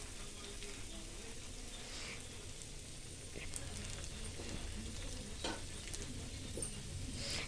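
Homemade pasta is stirred in a hot pan, giving a steady, close sizzle with soft scraping and shuffling as the pieces are tossed together, with no one speaking.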